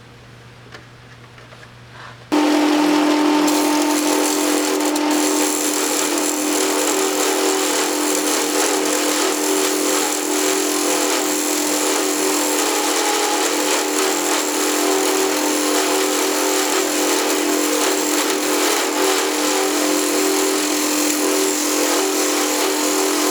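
A lathe cutting a reference groove into the end of a wooden flat belt pulley pattern starts abruptly after quiet, then runs as a loud, steady machine whine with constant cutting noise and a faint ticking throughout.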